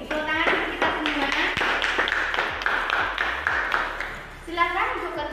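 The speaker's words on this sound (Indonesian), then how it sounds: "Tepuk tangan untuk kita semua." Children in a classroom clap their hands together in bursts of quick, loud claps, with a teacher's voice and a few young voices speaking between and over the clapping.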